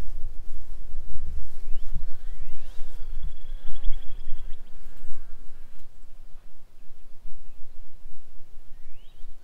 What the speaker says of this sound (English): These probably are the bees that live here.